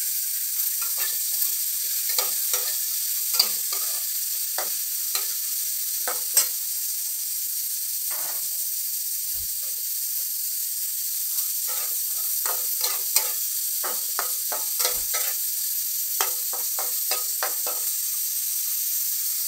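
Green peas frying in oil in a wok with spices for khichuri, a continuous close sizzle broken by repeated sharp spoon stirs and scrapes throughout, without speech.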